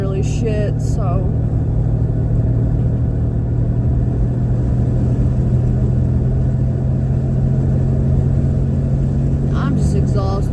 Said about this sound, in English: I'm sorry about the noise. My car is literally shit,